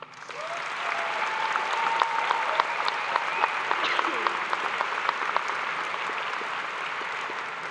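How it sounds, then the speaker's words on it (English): An audience at a high school graduation ceremony gives steady, dense applause that holds at an even level from start to finish. A few claps sit closer and stand out within the wash. "Give a round of applause."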